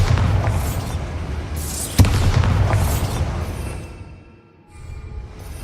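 A Bombarda spell explodes in Hogwarts Legacy with a loud, close boom and a sharp crack, followed by rumbling blasts that die away into near quiet.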